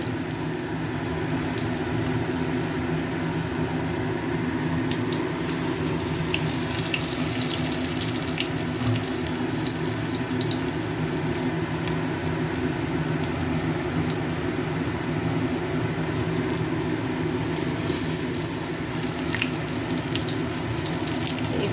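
Pumpkin flower fritters coated in gram flour fry in hot oil, giving a steady, dense sizzle and crackle that runs unbroken throughout at close range.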